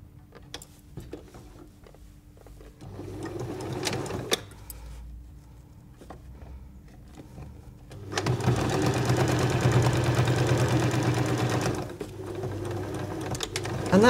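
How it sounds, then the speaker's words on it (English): A sewing machine stitches a fabric pennant onto tape, running in short close bursts early on and then in a longer steady run of about four seconds, with small handling clicks between. "Sew your pennant right side up onto the top edge of your tape"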